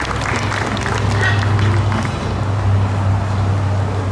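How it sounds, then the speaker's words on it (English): An audience at an animal show in a theater applauds the macaws, a dense, steady wash of clapping from a crowd, fairly loud and continuous throughout, with a low rumble underneath. "how about a round of applause for our macaws?"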